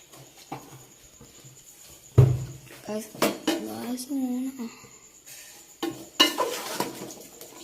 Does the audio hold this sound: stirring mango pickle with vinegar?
yes